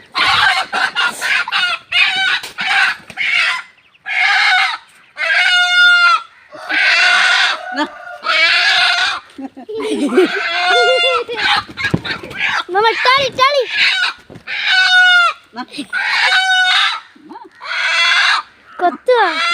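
Chickens cluck and a rooster crows repeatedly in a farmyard where children chase the birds, loud, dense bursts of clucking and crowing in a steady rhythm, with kids talking in between.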